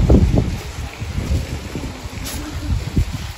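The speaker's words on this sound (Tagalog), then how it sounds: "Grabe ang lakas ng hangin ngayon eh." Strong gusting wind buffets the microphone outdoors in Germany, a loud continuous low rumble that swells and dips throughout.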